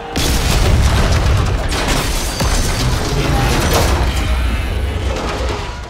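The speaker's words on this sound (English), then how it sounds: "Dang, a whole rocket launcher." A loud, sustained rumbling roar of a rocket launcher blast fills the whole stretch in Batman Arkham Knight, dense and booming with a crackling debris wash throughout.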